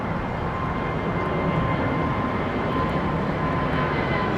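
A low-flying airliner departing Heathrow Airport roars with a steady, loud broadband engine drone throughout, close and constant with no voices.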